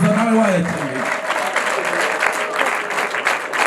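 Applause at a wedding celebration, a steady wash of clapping from a crowd running throughout, with a voice talking over it at the start.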